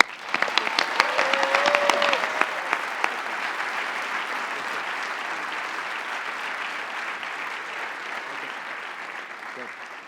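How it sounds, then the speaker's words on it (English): A large audience at a prize finals awards ceremony bursts into applause after a team's presentation, a few sharp claps up front, then a broad, steady wash of clapping that slowly tapers. "Give them a big round of applause"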